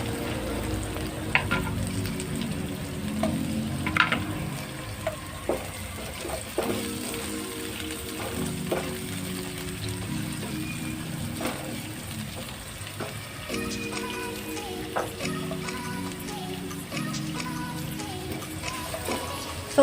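Red onion frying over low heat in a pan with garlic, a steady close sizzle running throughout, broken by regular scraping knocks of a spoon stirring, with no voices.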